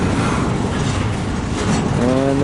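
Freight train rumbling through a rail yard, a steady low roar of wheels on track with a rising metallic squeal near the end.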